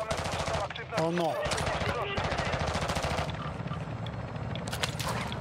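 Rapid automatic gunfire in Call of Duty Modern Warfare II DMZ, with sustained rattling bursts and a brief pause, while a player talks briefly over the shooting.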